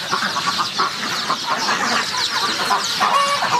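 Farm chickens cluck and chatter close by, several birds overlapping in a steady busy stream of short calls with no talking.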